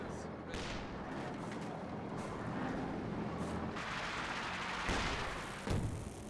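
Smoke barrage artillery fire in the World War II strategy video game Company of Heroes 2, heard as a continuous rumbling wash of booms and distant blasts with a few sharper thuds, under a dense game soundscape.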